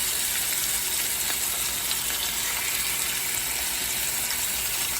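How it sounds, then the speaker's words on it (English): Pork chops sizzle in a hot frying pan, a continuous dense hiss of frying held at an even level throughout, close and without any talk. "We're going to get the pork chops in the pan now. Get these sizzling in here."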